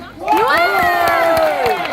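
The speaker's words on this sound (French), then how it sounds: "applaudissez s'il vous plaît" A comedy club audience cheers and shouts together in a loud, rising burst of voices with some clapping mixed in, lasting a couple of seconds.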